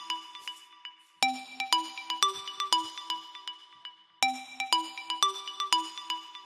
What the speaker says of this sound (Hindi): ए देखो तनी फोन कहीं का है।